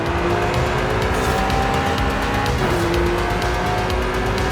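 Race car in Forza Horizon 5 braking hard into a sharp turn, tires squealing and skidding over a loud, steady engine roar that fills the whole stretch.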